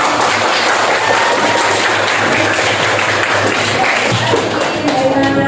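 A school classroom claps hands together during a lesson at an Islamic vocational school in Mayong, a loud, busy patter of many hands close by, continuing steadily for about five seconds.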